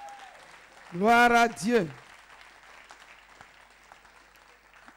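Congregation at a church service applauding and cheering for Jesus, sustained clapping and crowd noise throughout, with a loud drawn-out voice calling out over it near the start.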